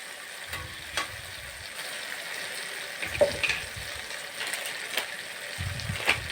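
Tomatoes and chili powder sauté in a pan for dum aloo, a soft steady sizzle marked by scattered ticks and a few low bumping stirs.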